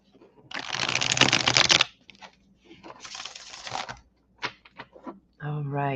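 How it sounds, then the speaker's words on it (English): A deck of tarot cards being shuffled, a long riffling burst followed by shorter shuffles and taps, close and fairly loud, with brief speech between. "All right, one more shuffle and we'll get going."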